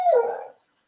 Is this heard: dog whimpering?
yes